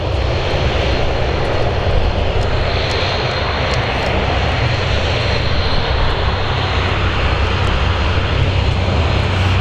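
Turboprop engines of a Luxair Dash 8 airliner roar steadily at an airport in strong winds, a loud continuous drone with wind buffeting and no voices.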